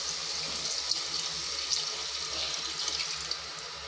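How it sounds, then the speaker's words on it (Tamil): Water pours in a steady, continuous splashing stream into a pot of mushroom biryani, close and moderately loud, with no one speaking. "இப்போ தண்ணி தேவையான அளவு"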